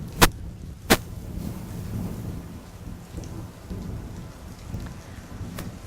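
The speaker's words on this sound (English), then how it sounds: "that's rain inside the grove." Rain falling inside an oak grove on Santa Rosa Island, a steady soft patter and hiss of drops, with two sharp loud knocks near the start and faint scattered ticks later.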